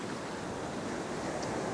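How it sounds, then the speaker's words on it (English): Ocean set waves wash powerfully up a beach, a continuous loud roar of surf with wind noise across the microphone. "when the set waves come, they're just washing up really powerfully"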